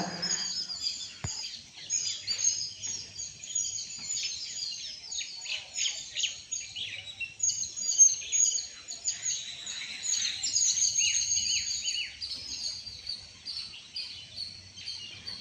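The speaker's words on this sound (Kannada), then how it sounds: "ಹಕ್ಕಿಗಳ ಕಲರವ ಕೇಳಿಸ್ಕೊಳ್ಳಿ" Birds chirp and twitter continuously, a busy chorus of high, overlapping calls with no talking, steady and fairly close throughout.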